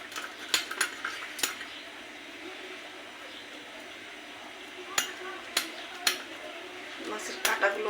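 Knife work on a whole fish with its scales already removed and hard bones, in a home kitchen with rice boiling nearby: sparse sharp knocks and taps spaced a few seconds apart over a quiet background.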